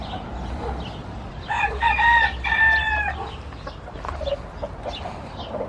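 Several chickens and roosters in a coop, including small chicks; a rooster crows loudly in two bursts over a continuous background of clucking and low flock chatter.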